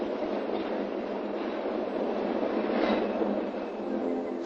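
A PATH commuter train runs through an underground tunnel with a steady, loud rumble and rolling rail noise. It continues evenly throughout and swells slightly near the middle, with no voices.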